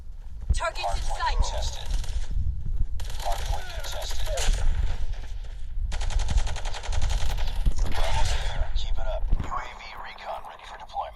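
XPR rifle gunfire in the Call of Duty Mobile video game, rapid repeated game shots in long sustained bursts with brief pauses, loud and close, while players talk over the action.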